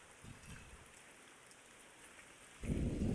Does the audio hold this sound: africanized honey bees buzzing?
no